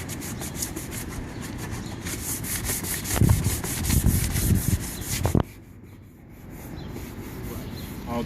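A yellowed car headlight is sanded with steady, rapid rubbing strokes, close and fairly loud, that stop abruptly after about five seconds and give way to quieter handling noise.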